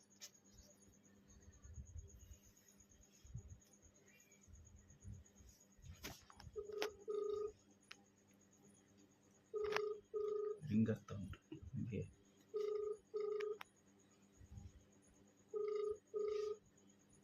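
A phone call ringing out unanswered, repeated paired electronic ring tones at a steady rhythm with short gaps, heard closely with brief speech and light background noise between rings.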